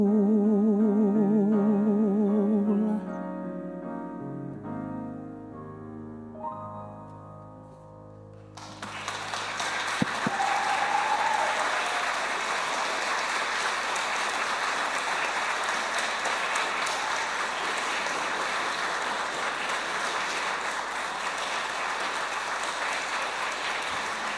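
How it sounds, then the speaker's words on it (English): Recital audience bursts into sustained applause after a closing piano passage fades, clapping dense and steady for about fifteen seconds without talk. "we could keep rapturously applauding for you"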